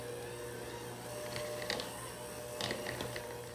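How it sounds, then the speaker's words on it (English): Cream cheese and butter are creamed together for a lemon blueberry layer cake's frosting, a low, steady mixer hum with a few faint clicks and clinks scattered through it. "Now we are creaming together the cream cheese and the butter."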